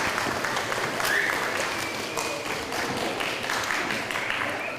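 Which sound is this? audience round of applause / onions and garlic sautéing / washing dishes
audience round of applause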